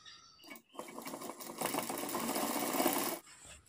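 A sewing machine stitches over elastic in a trouser waistband, with a short start and then a dense, close run of fast stitching lasting under two seconds before it stops abruptly; no voices.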